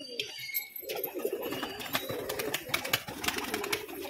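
Pet roller pigeons coo softly in a loft, repeated low throaty calls close by, mixed with sharp chirps, scuffles and brief wing flutters.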